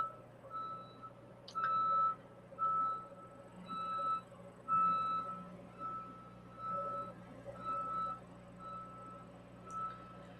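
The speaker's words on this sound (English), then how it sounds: "the beep, beep, beep is going to be annoying to me" A reversing truck's backup alarm sounds in the distance, a regular series of faint, evenly spaced electronic beeps repeating through the whole stretch over low background hum.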